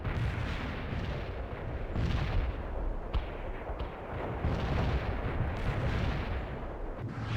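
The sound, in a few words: artillery fire support in the video game World in Conflict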